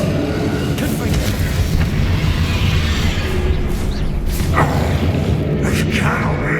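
A Confringo blasting spell goes off during a battle in Hogwarts Legacy, giving loud, booming explosive bursts over a dense, rumbling game soundscape, with brief sharp impacts near the end.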